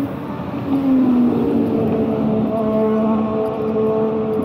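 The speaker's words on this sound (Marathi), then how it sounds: "अजून एक सुपर बाईक गेली ब्रिजवरून." A superbike crosses a bridge near Panvel, its engine note rising and falling as it passes, a loud sustained drone over steady road and traffic noise.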